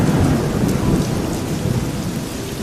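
Heavy rain pours down in a dense, continuous hiss, with deep rolling thunder rumbling loudly underneath throughout.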